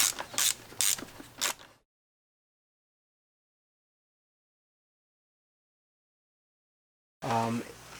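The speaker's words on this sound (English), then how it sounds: "I am actually going to take off these bolts" Ratchet wrench working an 11mm bolt off an N54 engine oil cooler, heard as several quick clicking bursts at the start, then a long silence before a short burst of noise returns at the end.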